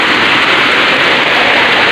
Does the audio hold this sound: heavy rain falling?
yes